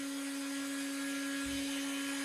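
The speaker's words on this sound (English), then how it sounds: "Sorry about the CNC running." A CNC machine runs steadily in a workshop, giving a constant mechanical whine with sustained tonal hums and a brief low thump midway, loud and close, with no talk.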